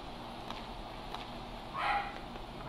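A pet dog barks somewhere in the room, giving a few soft, fairly distant yips and then a louder, clearer bark near the end, heard over a quiet background hum.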